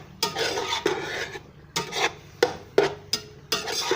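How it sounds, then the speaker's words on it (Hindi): A spoon stirs and scrapes through cooked rice and black cumin in a pot for prawn biryani, giving rough, close scraping strokes with sharp clinks against the pot every half second or so. No talking. "इसको मिक्स कर लेंगे अच्छी तरह से।"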